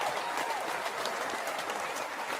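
An audience applauds at the close of a talk-show interview segment, a steady wash of clapping that holds at an even level for a couple of seconds with no one speaking over it.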